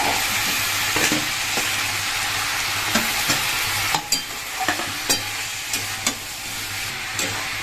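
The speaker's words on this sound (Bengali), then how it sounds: "এবার আমি দিয়ে দেবো ভেজে রাখা মাছের মাথা" Fried fish heads dropped into a hot pan of frying greens, giving a steady loud sizzle broken by repeated sharp scraping and stirring clicks at an uneven rhythm.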